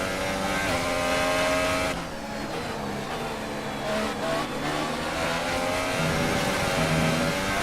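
F1 race cars roar through a race at the Austrian Grand Prix in the F1 2018 video game, engines revving loud and close with gear changes and a brief dip in pitch, running continuously.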